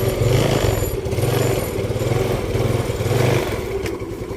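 A Yamaha Mio Sporty scooter engine revs up and down in repeated pulses, close and loud, running with a rough, uneven idle between revs.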